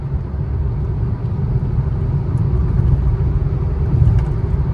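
A car on a highway road trip from Aurangabad toward Hyderabad while overtaking, a steady low engine and road rumble drone heard from inside the cabin, continuous and fairly loud with no talk.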